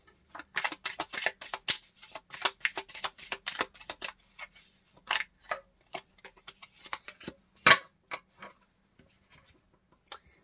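Tarot cards are shuffled and handled in a rapid run of crisp riffling flicks and slaps, then slower single card snaps and one sharp slap as a card is drawn and laid down, close and fairly quiet with no talk.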